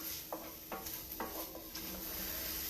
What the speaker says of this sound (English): if you're sauteing your peppers and onions along with me